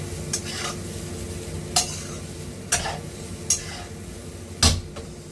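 Masala frying in a pan while being stirred, a continuous sizzle punctuated by five or so distinct metallic scrapes and knocks of a spoon against the pan, close up.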